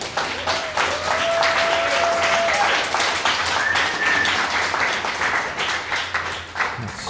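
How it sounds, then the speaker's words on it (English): Dense hand clapping from an audience welcoming a guest speaker at a NARPNet meeting in Huntsville, Alabama, steady and sustained for several seconds with a faint background tone. "let's give Butch a hand clap."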